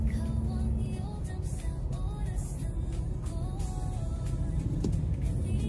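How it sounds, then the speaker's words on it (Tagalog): Heavy road traffic jam fills the air with a steady, dense rumble of idling and creeping engines, close and continuous, with faint tonal whines and clatter drifting through. "Grabe traffic po mga kalingap. Ganyan po, traffic dito."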